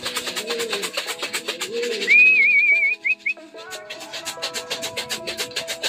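Racing pigeons cooing at a loft as the first bird arrives, a run of soft rhythmic coos close by, broken by a brief high whistle and a few clicks.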